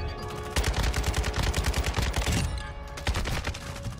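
Kastov 762 rifle gunfire in the video game Modern Warfare 2, loud rapid automatic bursts hammering out in a steady rhythm, with a brief pause before firing resumes.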